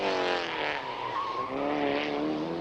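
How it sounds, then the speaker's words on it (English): Ford Sierra 4x4 Cosworth rally car racing hard around a circuit at the 1991 Omloop van Vlaanderen, a loud, close engine that revs and shifts in pitch throughout the brief stretch. "being chased really hard by Emilsen and France in their 4x4 Cosworth."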